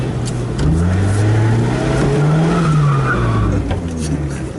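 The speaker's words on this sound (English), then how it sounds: "let's even just try and do it by lift off oversteer, or even power on oversteer" A Lotus on a driving academy track with tyres squealing through oversteer, a loud engine drone rising and falling under the continuous screech, with a voice talking over it.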